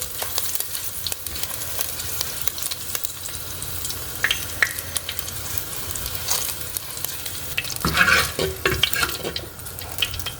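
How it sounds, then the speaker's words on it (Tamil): Garlic, curry leaves and pandan leaves frying in oil for a Sri Lankan spicy brinjal salad, a continuous close crackling sizzle with occasional stirring clatter, no voices. "இதில் கார்லிக் இப்போ ஃப்ரை பண்ணுறேன்."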